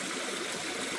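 Creek water flows in a steady close hiss and trickle with no pauses and no voices, the whole stretch unbroken at even loudness.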